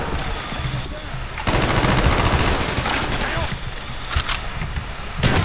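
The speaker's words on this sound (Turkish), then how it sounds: "Nereden sıktı şimdi?" Gunfire in a Call of Duty Black Ops multiplayer match, with a long sustained burst of automatic fire followed by scattered sharper shots, loud and close.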